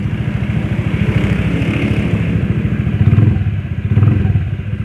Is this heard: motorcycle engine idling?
yes